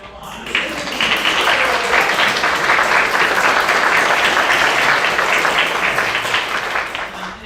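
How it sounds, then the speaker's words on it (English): A grant awards event audience breaks into loud, sustained applause, a thick wash of many hands clapping that builds quickly and holds steady for several seconds before easing off. "And I'd like to start by giving you all a round of applause."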